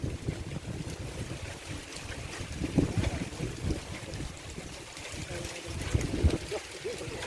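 Strong wind rushes and buffets across the microphone outdoors beside a rural fishpond in a continuous gusting roar, with a few low thumps underneath.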